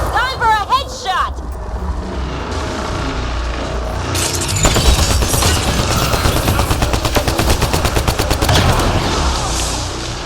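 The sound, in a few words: gunfire in the video game Mass Effect Andromeda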